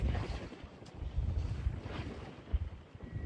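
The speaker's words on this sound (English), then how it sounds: "because it's getting windy" Gusty wind buffeting the microphone outdoors on a boat at sea, low rumbling bursts that rise and fall unevenly, with no voices.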